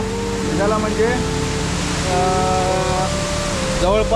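A hidden waterfall near Bhal village sends out a constant broad roar of falling water, loud and close, with voices sounding over it now and then.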